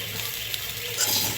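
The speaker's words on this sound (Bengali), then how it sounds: "তো হচ্ছে এগুলি আমি একটু ভেজে নিচ্ছি" Potatoes being lightly fried in oil in a pan for aloo dum, a steady soft sizzle and hiss close by, with a brief rise in crackle near the end and no voices.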